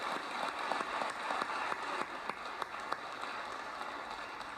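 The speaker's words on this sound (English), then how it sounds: "Please give them a round of applause." A room of people applauds the Mercer County Lady Titans basketball team, back-to-back KHSAA state champions, with dense steady clapping that holds through the whole stretch, a few sharper claps popping out near the front.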